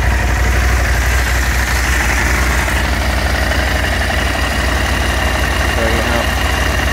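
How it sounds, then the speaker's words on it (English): A 2023 Husqvarna Norden 901 motorcycle with an 899cc parallel-twin engine idles nearby, giving a loud, even, continuous rumble with a steady pulse throughout. "This is sound coming through from that spiral twin engine"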